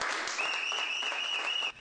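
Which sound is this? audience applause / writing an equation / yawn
audience applause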